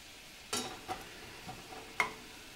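A pot of stew cooking over high heat, with a few sharp scraping stirs of a spoon against the pot over a low, steady sizzle, close and fairly quiet.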